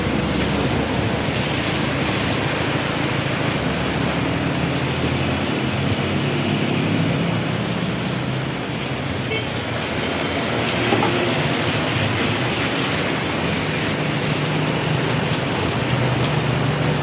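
Steady rain falls throughout on a laundry day, a dense, even hiss of drops on surfaces that holds at a constant level with no voices, sounding close and continuous.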